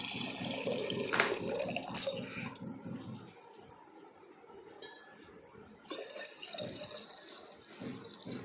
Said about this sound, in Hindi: ये आपने लोटे में पानी भरा,